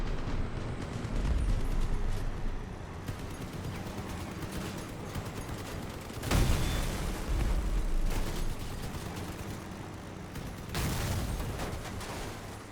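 Cannon fire and explosive blasts from vehicle combat in the video game Crossout, a dense, loud barrage of booms with sharper bursts standing out, mixed with engine and mechanical noise throughout.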